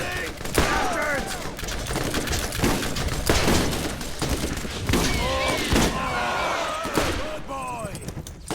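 Rapid gunfire from the Borderlands video game, with bursts of sharp shots repeating through the stretch, loud and close, mixed with game effects and voices.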